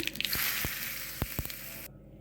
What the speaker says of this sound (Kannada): ಇವಾಗ ಒಂದು ಘಮ ಘಮ ಅಂತಿರೋ ಇಂಗಿನ ಒಗ್ಗರಣೆ ಹಾಕ್ತಾಯಿದ್ದೀನಿ